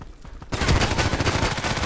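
Shotgun blasts from an IZH-43 in the Contract Wars video game: sudden loud gunfire bursting in after a brief quiet stretch, followed by a busy stream of further shots and battle noise.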